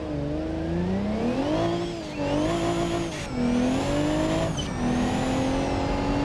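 Race cars in a BeamNG.Drive NASCAR event roar past at close range, a steady high engine drone that rises and dips in pitch as they shift and sweep by, loud and continuous with no talking.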